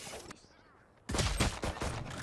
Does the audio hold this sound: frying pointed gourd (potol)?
no